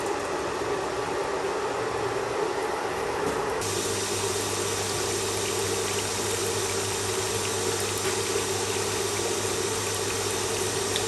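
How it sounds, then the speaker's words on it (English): Water pours steadily into a brewing copper, making a constant, loud rushing and hissing flow that shifts slightly in tone partway through as the fill continues, with no voices present. "I might leave that on actually, and we'll start filling the copper."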